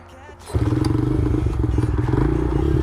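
A dirt bike engine catches after a quiet moment, then runs loud and close with a rapid, even idle chug and some mechanical clatter, continuing steadily to the end.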